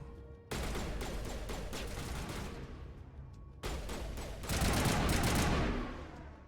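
Sustained bursts of automatic gunfire in the Mass Effect Legendary Edition video game, a dense continuous volley that pauses briefly near the middle, then resumes louder with heavier, booming shots.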